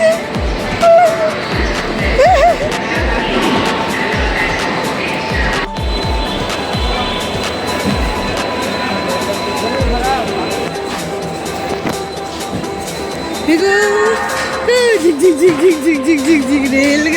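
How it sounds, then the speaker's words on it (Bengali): A moving passenger train rattles on with a steady loud rumble and rhythmic clacks of the wheels on the rails, heard from inside under continuous nearby chatter and a voice. "রেলগাড়ি চলে, রেলগাড়ি চলে।"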